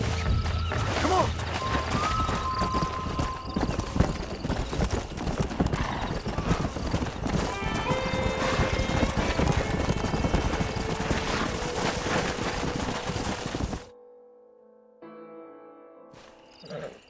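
Horses in the Red Dead Redemption video game clip-clop steadily over a dense, loud game soundscape, with whinnies and neighs cutting through before the sound abruptly drops away near the end.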